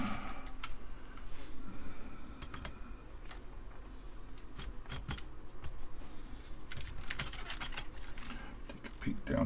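Amiga 1200 keyboard being test fitted into its case gives soft plastic clicks, taps and rattles scattered irregularly over a steady background hiss, close and fairly quiet.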